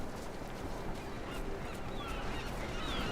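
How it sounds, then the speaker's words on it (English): Birds honk in Deus Ex: Mankind Divided, faint goose-like calls scattered over a low ambient background, quiet and distant throughout. "Birds."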